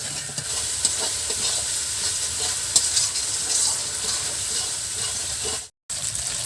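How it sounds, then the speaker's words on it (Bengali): Cumin and chilli masala frying in a pan with a little water for a fresh pond sarputi fish curry, a steady loud hiss with light clicks and a brief gap of silence near the end. "এবার জলের সাথে জিরে আর লঙ্কাটা একটু কষে নেব।"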